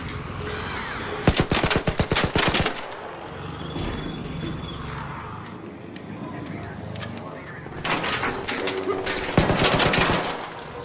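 Gunfire in the game Arc Raiders: two bursts of rapid automatic shots, each lasting a second or two, set against steady in-game background noise, with a voice talking in between.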